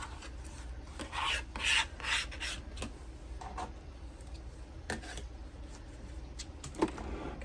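Quilt fabric is trimmed into a square around a scrap ruler on a Shoofly Star quilt block, making faint, short rasping cutting strokes in a quiet room.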